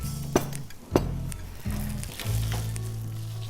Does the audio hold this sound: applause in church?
no